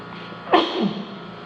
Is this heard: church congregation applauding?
no